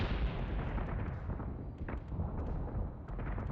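Heavy ship gunfire in the space combat game Battlestar Galactica Deadlock booms continuously, a dense rumbling barrage of rapid thuds and blasts at loud, even level.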